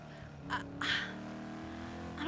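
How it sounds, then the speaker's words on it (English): Loud car engine in the GTA V NoPixel roleplay game, revving steadily with rising and falling tones, a couple of brief bursts over the drone, with voices talking faintly alongside. "Why is this car so loud?"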